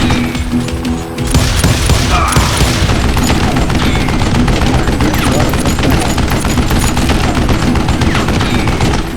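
Rapid, dense gunfire from a zombie shooting video game, loud and continuous for several seconds with overlapping bursts and booms, almost like a fusillade, with no talk.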